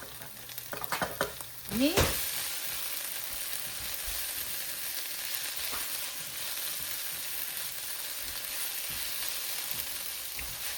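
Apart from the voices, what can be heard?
onions and chilies frying in a pan for dosa filling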